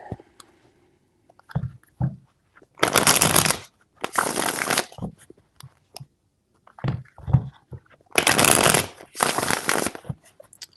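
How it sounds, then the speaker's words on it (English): Tarot cards being shuffled by hand in repeated bursts of riffling and sliding, close and crisp, with short pauses and brief handling sounds between each round. "Four shuffles."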